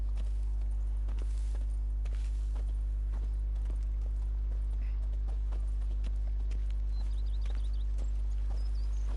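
Geralt's horse Roach from The Witcher 3 walking on a hard floor, steady close clip-clop hoofbeats in a slow even rhythm over a constant low hum.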